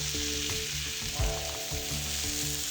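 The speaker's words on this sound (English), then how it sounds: "We're just going to take and we're going to start spooning that over the top of these steaks." Steaks fry loudly in a pan on a stovetop with herbs and garlic, giving a dense, constant sizzle with a few soft thumps as hot fat is spooned over them. No talking.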